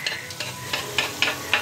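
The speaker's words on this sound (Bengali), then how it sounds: "আর তার সাথে দেখো গরম গরম নিমকি ভাজা হচ্ছে।" Nimki, a savoury flour snack, deep frying hot in oil at a home kitchen, giving a soft steady sizzle broken by sharp crackling bursts roughly every quarter second, close and moderately loud with no talk.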